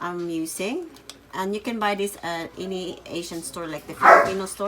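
Someone talks steadily while a dog barks and yips a few times underneath, one louder bark near the end, in a home kitchen while cooking Filipino spaghetti sauce.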